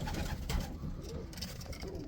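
Pigeons coo steadily in a breeding loft housing champion racing birds, a soft continuous murmur of overlapping calls filling the space at close range with no talk.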